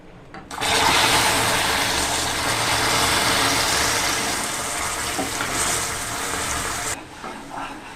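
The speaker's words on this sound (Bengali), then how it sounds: "সুন্দরভাবে ক্যারামেল হয়ে গেছে এবার একটু পানি দিয়ে দেবো" Water hits hot caramelized sugar in a pan and erupts into a loud, sustained hissing, spluttering roar lasting about six seconds before cutting off abruptly.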